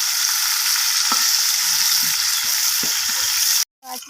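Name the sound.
bhola fish frying in a wok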